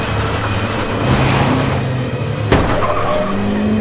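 Car skidding in a tense chase scene: a loud, sustained tire squeal over engine drone, with a sharp impact-like crack midway and the screech carrying on afterward.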